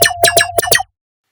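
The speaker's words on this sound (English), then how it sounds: "an amazing plugin where you can shape the sound to create these kind of laserish sounds" Laser-like synth sound shaped with a Melda Production freeform phase plugin for neurobass design: five quick zapping pulses over a steady tone, loud and close, ending abruptly into silence.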